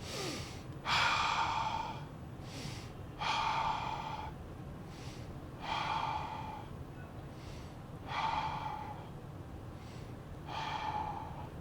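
Deep, slow breaths during an energy movement exercise, five distinct inhale-exhale bursts spaced about every two and a half seconds, close and clear against a quiet room.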